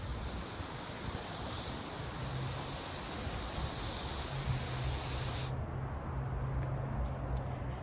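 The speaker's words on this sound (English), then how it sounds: "Just water it from the top like we would normally." Water pours from the top onto a plant's soil in a GroBucket, a loud, steady hiss of spray that stops abruptly after about five seconds, leaving faint drips and quiet.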